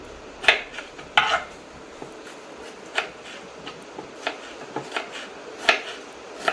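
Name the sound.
cutting tomatoes with a knife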